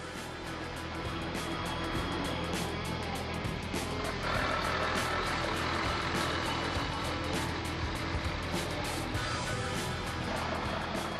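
Mercedes-Benz Actros truck on a short test drive after a planetary O-ring replacement, a continuous loud, noisy roar of engine and road with wind-like rushing and no clear changes or voices.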